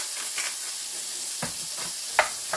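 Seasoned carrots and asparagus sizzle in a pan while being stirred, a steady frying hiss broken by a few scraping stir sounds, close and alone.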